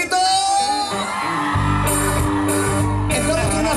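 A crowd gathered at a night bonfire celebration whoops and yells together, loud and sustained over a music-like tonal background with low booming.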